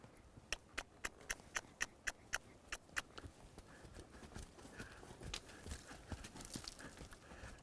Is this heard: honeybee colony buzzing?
no